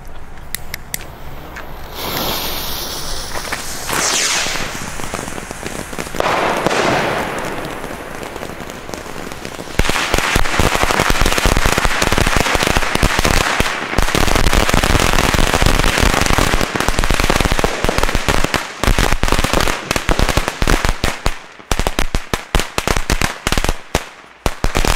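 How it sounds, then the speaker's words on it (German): A string of firecrackers set off on New Year's Eve erupts after a quieter fizzing start, becoming a loud, continuous crackling barrage of rapid bangs close by for over a dozen seconds, with no talking. "Alter, ist das eine Knallkette."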